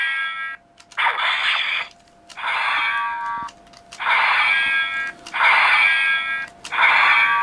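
A 2011 ThunderCats Deluxe Sword of Omens toy plays repeated electronic sound effects, five bright, buzzy, tonal bursts of about a second each with short gaps between them, close and fairly loud.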